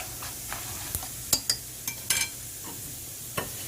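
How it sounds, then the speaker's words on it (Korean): Julienned potato strips deep fry in hot oil with a quiet bubbling sizzle, broken by a few sharp metallic clicks and taps from utensils near the pot, low in level and without speech. "제가 채썰는 것도 한번 튀겨볼게요"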